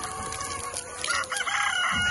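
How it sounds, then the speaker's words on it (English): Chickens cluck and a rooster crows nearby on a farm, a busy, continuous chorus of fowl sounds with no talking. "So I'm down here watering the chickens."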